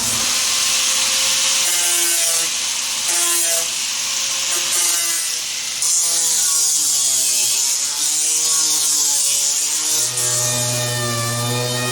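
A DA sander works over fiberglass sidesteps, a steady loud whirring grind with shifting pitch as the pad moves across the surface, running continuously with no talk.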